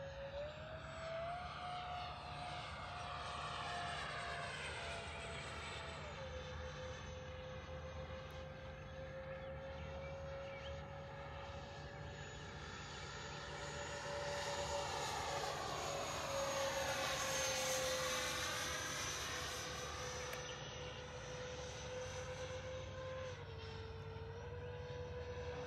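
A radio-controlled model MiG-25 jet flying in to land, its high turbine whine sweeping steadily with shifting pitch as it passes, loud and continuous for the whole stretch with a faint constant hum beneath and no talk.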